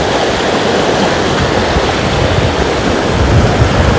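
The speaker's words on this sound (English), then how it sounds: "Kind of wonder how long these trees would be able to stand having water run around their roots like that." Floodwater rushing around the roots of trees in a flooded park area, a steady, loud, broadband roar of flowing water with no talking.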